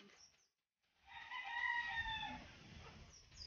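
A rooster crows once, a loud drawn-out call close by, after a short quiet gap, with faint clucking of hens at the start and end.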